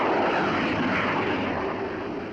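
US Navy jet fighter engines roaring on an aircraft carrier deck during catapult launches, a loud, dense, ear-shattering roar that fills the whole stretch without pause.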